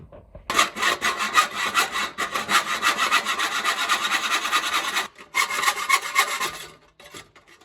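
A hand saw cuts through a metal ring for a homemade forge, making loud, fast, rhythmic rasping strokes that run for about four seconds, pause briefly, then resume before stopping. No one speaks.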